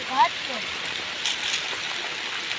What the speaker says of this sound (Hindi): हमारे कच्चे मकान की छत जो है ना, छत से बारिश लीक होने लगी है।